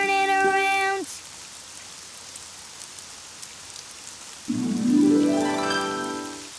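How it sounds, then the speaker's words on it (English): Cartoon rain falls outside as a soft, steady hiss running the whole time, with bright musical tones at the start and a rising tonal sweep near the end. "Oh, it's raining outside."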